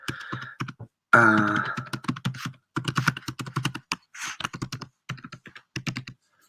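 Close, crisp keystrokes on a computer keyboard tap out an email address in uneven runs, with a brief tonal sound and a short breathy noise between bursts.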